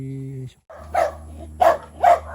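Dogs on a farm give three short, loud barks at a steady pace, close by, after a brief low hum cuts off.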